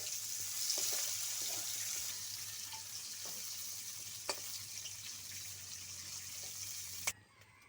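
Lightly fried shrimp sizzle in oil as they are lifted out of the pan, a soft, steady hiss with a few small clinks and a sharp knock near the end; no speech.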